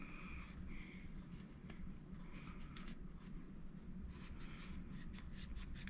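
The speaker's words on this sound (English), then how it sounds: "I'm going to rag and wipe out the excess." A rag rubs and wipes steadily over a Penn Fathom FTH10XNLD fishing reel to clear off excess grease. The dry scratchy scrubbing is close and quiet, continuing in repeated strokes with brief sharper swipes, and no one talks.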